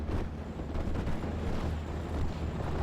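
A Nebelwerfer rocket barrage in a war video game rolls as a dense, continuous roar of blasts and rumble, loud and sustained without break.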